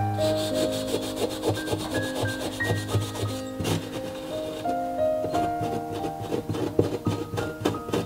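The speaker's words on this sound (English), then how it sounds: "that's how you clean off piano strings using a Scotch-Brite pad" A Scotch-Brite pad scrubs rust off steel piano strings in quick repeated rubbing strokes, and the metal strings ring with sustained tones underneath. The scrubbing is close and continuous at a moderate level.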